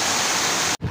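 Floodwater in Turvo, Santa Catarina, rushes into a house after 200 mm of heavy rain. It is a loud, dense, steady roar of pouring water that cuts off abruptly at the end.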